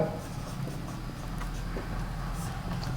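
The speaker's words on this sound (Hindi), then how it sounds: "अब हम इसका आंसर लिख देंगे" Pen or marker strokes scratch softly as an answer to a 10th-grade maths problem is written out, a faint steady scraping over a low background hum with no speech.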